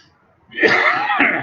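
A single harsh, throaty cough bursts out from a speaker during a talk after a brief quiet moment, close and loud, with no talking around it.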